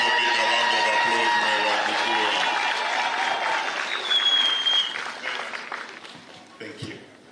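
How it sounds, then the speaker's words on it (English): A crowd applauds and cheers for a bank at a housing project commissioning ceremony, dense clapping with a whistle rising above it, then tapering to scattered claps as a voice begins speaking near the end. "I think Stanbic Bank deserves a big round of applause,"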